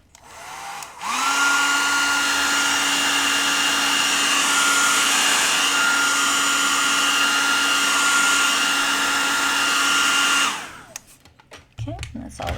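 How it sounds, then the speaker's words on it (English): A blow dryer drying red watercolor paint on paper switches on with a whine and blows in a loud, steady roar with a constant tone for about nine seconds, then cuts off, followed by faint handling noises. "to be safe, we can use our blow dryer."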